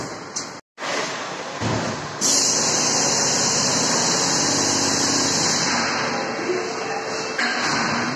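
A car's engine idles as it arrives at a service yard, giving a steady low hum under a constant broad hiss, with a sudden brief dropout near the start and a brighter, louder stretch after it.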